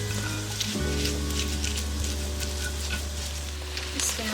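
Chilies frying in a pan for sambal bajak, with a loud, steady sizzle and crackle running throughout, close up and with no voice over it.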